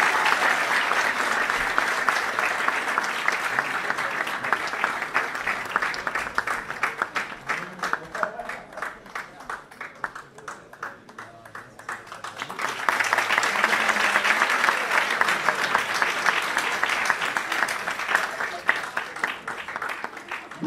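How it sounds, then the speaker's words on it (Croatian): A big round of applause from a festival audience, dense steady clapping that dips briefly in the middle and then swells back strongly, with faint crowd noise. "Ajde, veliki aplauz, to je naša budućnost."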